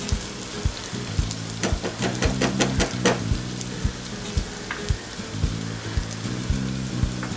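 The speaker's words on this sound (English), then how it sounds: "So we're going to stir it till it becomes soft." Carrot and cabbage for a keto clear soup are stirred in a pot as they soften, a close crackling sizzle with repeated scraping knocks of the spoon at an irregular rhythm.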